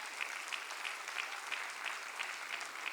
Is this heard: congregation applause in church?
yes